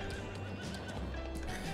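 A horse in Farming Simulator 22 neighs and whinnies while its hooves clip-clop steadily, a clear close sound with no talking.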